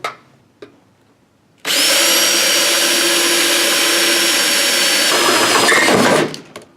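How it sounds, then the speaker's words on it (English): A power drill with a 1/2-inch bit whines loudly and steadily into a metal lighting ballast compartment cover for several seconds, its pitch shifting near the end before it stops; a few faint clicks come before. "drill a hole for our test switch"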